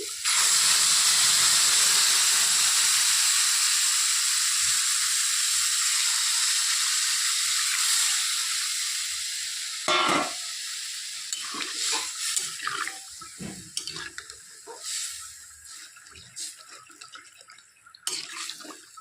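Gravy poured into a hot pan of cooked-down spices for a homestyle paneer curry, giving a loud, steady hissing sizzle that gradually fades over about ten seconds into quieter, intermittent bubbling and spattering.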